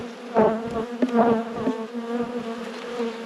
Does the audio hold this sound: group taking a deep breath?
no